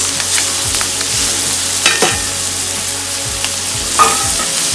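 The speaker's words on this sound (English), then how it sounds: "You can see everything is cooked in the oil, and now we put the karelas." Karela, bitter gourd, frying in hot oil with sesame seeds, a loud close sizzle with a low stove hum beneath and a few sharp spoon scrapes as it is stirred.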